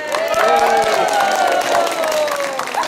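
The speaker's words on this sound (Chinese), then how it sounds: "我们为了这个结果，我们大家欢呼了哈" Crowd at a Taiwanese bird-count gathering cheering and clapping together, a loud, dense burst of voices and applause close by for about three seconds.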